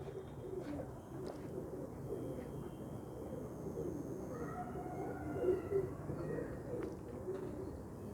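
Pet pigeons from a small home loft of about ten to fifteen birds coo softly and repeatedly, a low murmuring cooing against steady background noise, with a couple of slightly louder calls.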